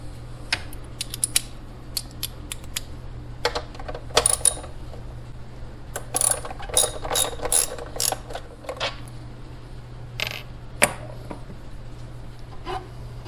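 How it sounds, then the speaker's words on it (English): Small metallic clicks, ticks and rattles as a cover is unscrewed and lifted off an air compressor, irregular and close, over a steady low hum, with no speech. "We're going to take this cover off."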